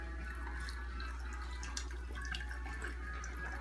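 Homebrew liquid for a Dead Guy Ale kit draining steadily, a continuous soft trickle with faint drips over a low constant hum, no voices.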